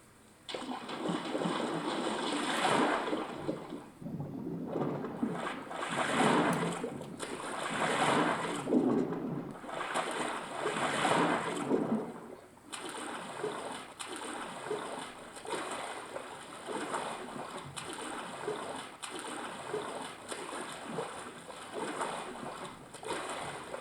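A small water feature in a Game Guru Max video game level gives off soft, repeated splashing and sloshing, swelling and fading in uneven waves at moderate, fairly quiet level with no talk.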